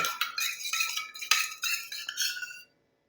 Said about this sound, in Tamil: ஃபேர் லவ்லியை நல்லா இந்த மாதிரி வந்து கலந்து விட்டுருங்க. காஃபியோடு நல்லா அப்டேட் ஆகணும்.